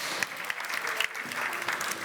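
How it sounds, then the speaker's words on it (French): A conference audience applauds as round-table guests are called up on stage, a dense, steady patter of many hands clapping at moderate distance. "Sous vos applaudissements, Mesdames et Messieurs."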